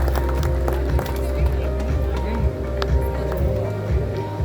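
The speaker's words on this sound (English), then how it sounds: "A huge round of applause" Scattered clapping rises from a conference audience at a textile trade fair in the Jio World Convention Centre, steady but fairly light over a constant room hum.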